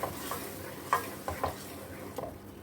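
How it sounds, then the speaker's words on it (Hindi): Onion paste and mutton masala fry in a pan with a soft sizzle, while a spoon stirs and scrapes at intervals. The sound is quiet and close. "अब हम दोनों को अच्छी तरह से फ्राई कर लेंगे।"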